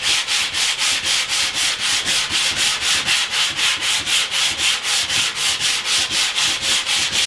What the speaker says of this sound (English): I'm going to get rid of those now with some sandpaper, back to the old shoe shining again, and I'm just going to run down, work up and down